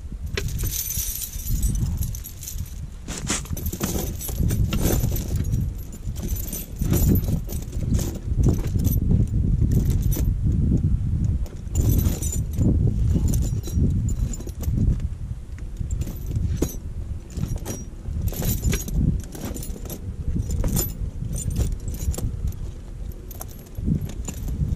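Metal tire chains rattle and clink continuously at close range as they are handled and fitted onto the front tire of a vehicle, with irregular jangling throughout and no talking.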